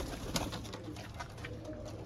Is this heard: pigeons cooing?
yes